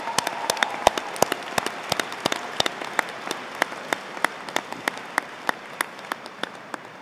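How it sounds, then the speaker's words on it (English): Scattered clapping from an audience, individual hand claps standing out in an uneven rhythm, fairly close, with no voices. "many friends and family are clapping themselves"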